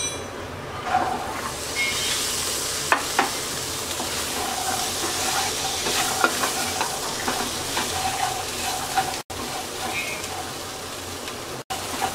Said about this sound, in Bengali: মশলার সাথে ছোলাটাকে 2 মিনিট ভেজে নেব।